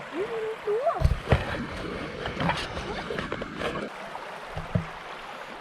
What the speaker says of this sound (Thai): น้ำไหลแรงมากเลย